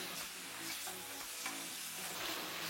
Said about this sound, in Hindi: इसको हम अच्छे से भूनेंगे